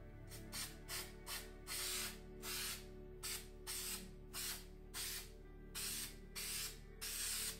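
Spray adhesive misted onto a stitched cross-stitch piece in repeated short hissing bursts, about a dozen quick, close sprays in an uneven rhythm with brief pauses between them.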